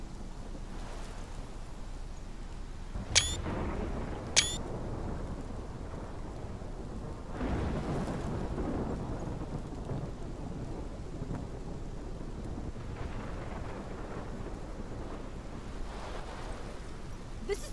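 A thunderstorm rages in the game Life is Strange: heavy rain roars continuously, two sharp thunder cracks split the air early on, and a deeper rumble swells midway.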